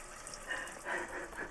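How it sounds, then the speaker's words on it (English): Cold water runs from a tap fed by a pump in a Transit campervan conversion, a soft steady gush that swells briefly and stays quiet and close. "We've got running water!"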